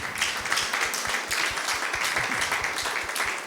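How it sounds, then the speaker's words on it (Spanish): A church congregation claps in praise during a service, a dense, steady patter of many hands filling the room throughout, with faint voices mixed in. "Quiero que le dé un aplauso al Señor."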